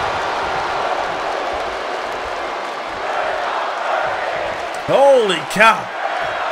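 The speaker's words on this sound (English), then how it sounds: "The crowd is electric for this one!" A steady, loud crowd roar from the arena in the WWE 2K23 wrestling video game, continuous under an excited commentator's voice that rises in two sharp exclamations near the end.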